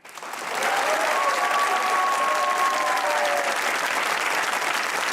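Studio audience of a Pakistani comedy talk show breaking into steady, full applause that swells in over the first half second and holds loud and even, with a faint sustained tone riding over it.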